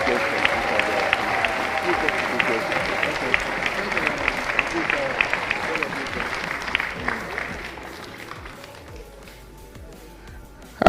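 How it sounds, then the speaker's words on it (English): An audience at an evening symposium in North Carolina gives a sustained round of applause, dense clapping that holds steady for several seconds before tapering off toward the end. "can I please hear another big hand of applause?"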